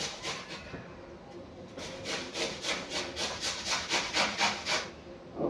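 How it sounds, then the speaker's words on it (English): Vegetables are rubbed across a hand grater for homemade coleslaw, giving a close run of rhythmic rasping strokes that quicken and grow steadier toward the end, with no speech. "Let me see which side is going to grate."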